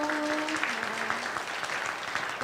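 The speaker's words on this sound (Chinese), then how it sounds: "好，拍手！" A church congregation claps during a Sunday service, steady dense applause from many hands filling the room without pause.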